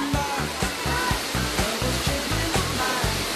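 Lubong Nangoloan waterfall in Luzon, Philippines, roars with loud, steady broadband rushing, overlaid by regular low thumping pulses throughout.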